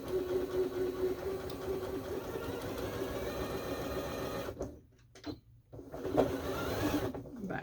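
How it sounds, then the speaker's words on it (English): A sewing machine stitches a quarter-inch seam on quilt fabric in a steady, fast mechanical whir, pausing briefly near the end before running again. "And redo my 1/4 inch seam."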